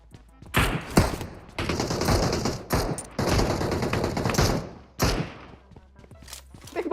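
Gunfire in the mobile game PUBG Mobile, aimed at a bot: sharp bursts of automatic fire in uneven clusters, fairly close and loud, with thumping impacts between volleys.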